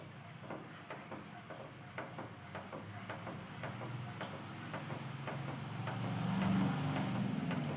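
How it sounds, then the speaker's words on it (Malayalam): Milk heats in a pan on the stove and comes to a boil, giving a soft, steady hiss with faint regular ticking that swells slightly toward the end. "പാല് നല്ല അടിപൊളിയായിട്ട് തിളച്ച് വരട്ടെ"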